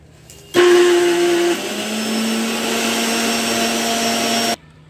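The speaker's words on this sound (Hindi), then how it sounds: "अभी लहसुन और अदरक का भी पेस्ट बन रहा है" Electric kitchen grinder blending garlic and ginger into paste, switching on abruptly with a loud high whirring roar that eases slightly in pitch midway, then cutting off after about four seconds.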